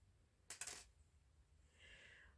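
Metal paper clips drop onto a surface in a quick cluster of light clinks and rattles, then a soft rustle follows in a quiet room.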